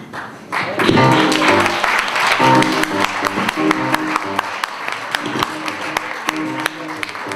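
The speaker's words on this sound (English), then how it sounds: "Give him a round of applause." Audience applause for a eulogy-style roast, a loud crowd clapping close up that swells right away and then holds at a dense, even level, with voices mixed into the noise.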